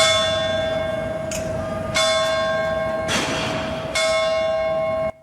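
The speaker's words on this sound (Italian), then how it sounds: "Il rintocco delle campane riporta quella tragica notte del 27 aprile." Church bells toll in Monreale, Sicily, with bright sustained ringing tones and several fresh strikes layered over a lingering hum, loud and close with no voices.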